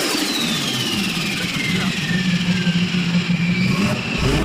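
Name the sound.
car engine revving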